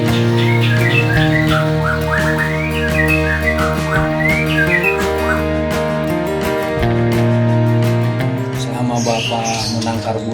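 Bright chirps and whistled phrases from a white-rumped shama songbird repeat throughout, close and clear, over a steady droning tone and some background voices at a bird breeding site.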